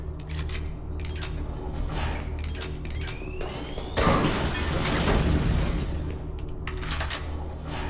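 Grenade blasts in the PC shooter DOOM 3: a loud, broad boom strikes around the midpoint and rolls on, preceded by scattered metallic clanks and sweeping tones over a constant low game hum.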